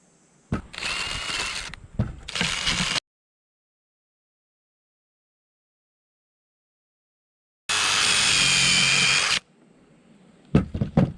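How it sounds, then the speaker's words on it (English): A power tool scrubs rust off the front brake hub of a Toyota Camry in loud, whining bursts: two short runs, a long silent gap, then another sustained run and a few clanks, close up with no talking. "we'll go ahead and bust the rust off of here"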